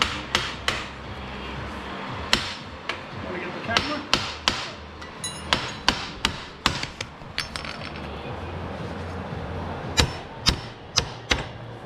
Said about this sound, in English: I'm going to tap her with the hammer.